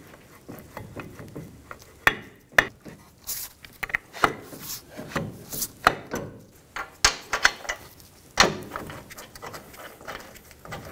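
A ratchet snugs the caliper bracket bolts on the front brake of a 2007-2017 Ford Expedition, with uneven bursts of clicking, sharp metallic knocks and rattles spread across the stretch, close by, and no talking.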